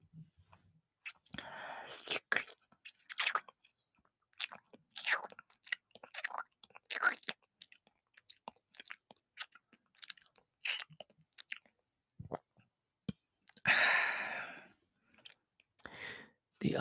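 Close, intimate chewing and biting of something soft and wet during an ASMR role-play, with moist mouth clicks and bursts of crunching between quiet whispered speech, one louder, longer chewing burst near the end.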